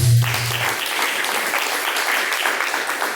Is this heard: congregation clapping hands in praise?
yes